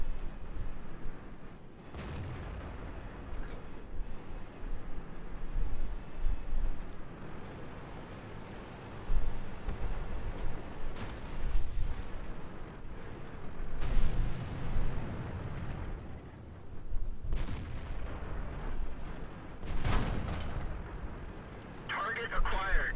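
Tank cannons fire and rounds strike armour in a video game, with several heavy booms and impacts spread through a continuous rumbling battle bed under radio-style voices.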